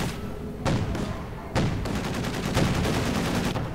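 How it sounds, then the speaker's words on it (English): Heavy flak rounds fire in Company of Heroes 2, a steady rattle of repeated booming shots over constant battle noise, with a few stronger thumps standing out. "the Austrian slowly advances, firing considerably large flak rounds"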